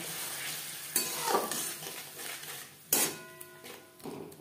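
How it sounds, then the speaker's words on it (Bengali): Spice masala with a splash of water cooking over low to medium flame, sizzling as a spoon stirs and scrapes the pan, with several sharp metallic knocks against the rim at intervals. "3-4 মিনিট লো টু মিডিয়াম ফ্লেমে মশলা কষিয়ে নেব"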